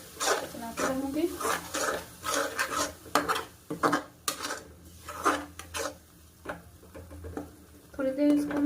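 Tomato paste stirred in a cooking pan, with rhythmic scraping and rubbing strokes of a utensil, close by, partly under a voice talking.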